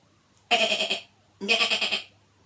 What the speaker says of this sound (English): on a boat stood a goat who was bleating loudly.